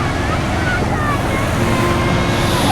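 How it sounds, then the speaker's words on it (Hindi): Sea waves wash up on Naugaon beach with a steady loud roar and heavy wind buffeting the microphone, without a break. "समुद्र की लहरें मुझे छूती हुई"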